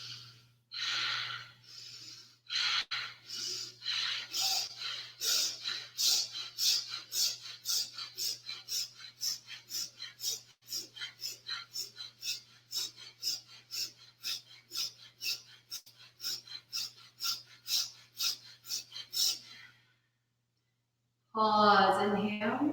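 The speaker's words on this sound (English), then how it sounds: "Pause, inhale, out through pursed lips." Paced yogic breathing, with a run of rhythmic, forceful nasal breaths repeating steadily for about twenty seconds, then a pause and one long exhale through pursed lips, close and clear.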